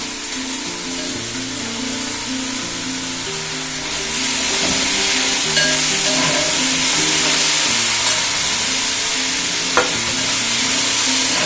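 Pork fry sizzling in a pan as curry leaves and tomato go in, a steady loud hiss that swells after the additions, with occasional stirring clinks and a background hum.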